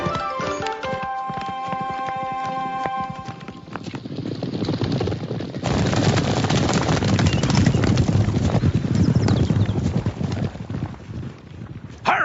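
Horse hooves clip-clopping on a Texas trail, a rapid, rhythmic clatter of hoofbeats that starts sharp and distinct over a tonal musical passage, then grows louder and denser as the horse picks up pace.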